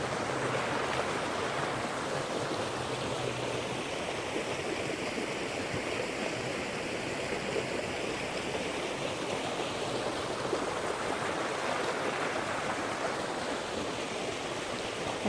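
A creek flows steadily over rocks outdoors during a nature walk, a constant broadband rush of water that stays level throughout with no talking.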